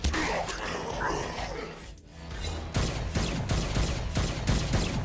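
Rapid gunfire in a battle from the video game Saints Row: Gat out of Hell, dense bursts of shots that dip briefly and then return as sharp repeated cracks, loud and continuous.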